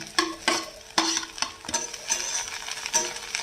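Fried egg and okra are mixed with onion and green chilli in a pan, close scraping and clacking of a utensil against the metal in uneven strokes over a light sizzle, with no speech.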